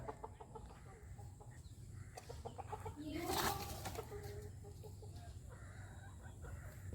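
Native chickens cluck and crow while being fed meat, their calls coming in short irregular bursts over a steady farmyard hum, with one louder, brighter call rising briefly midway.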